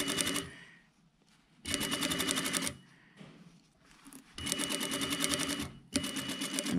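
Sewing machine basting reinforcement along a jacket's back armhole, running in four fast bursts of rapid needle stitching separated by short pauses, close and loud with no talk.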